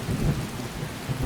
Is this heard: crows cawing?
no